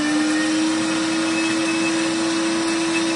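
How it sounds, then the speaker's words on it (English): A kitchen blender whirs at a steady high-pitched motor drone while blending hollandaise sauce, loud and close, unbroken for the few seconds shown. "blender's on, plugged in, lid's on, and I'm going to do pulse"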